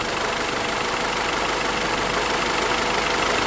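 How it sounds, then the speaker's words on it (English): A warmed-up Honda B18C VTEC four-cylinder idles steadily with its cooling fans running, a dense, even engine hum and fan whoosh, close and constant, with no talking. "cooling fans have kicked on, you can listen for yourself"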